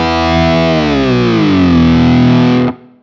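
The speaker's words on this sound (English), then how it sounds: "Now when I move my EV1, I go up and down, so I should have a nice whammy sound here" A guitar whammy pitch-shift effect swept by a Fractal EV1 expression pedal: a loud, heavily distorted sustained chord glides smoothly downward in pitch over about three seconds, then cuts off abruptly.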